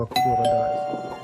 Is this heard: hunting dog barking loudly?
no